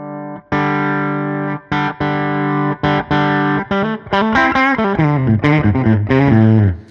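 Electric guitar through a Tone City Double Durple distortion pedal at low gain and high volume, thick, mildly distorted low-mid tone, plays a sequence of sustained notes and quicker phrases, loud and upfront.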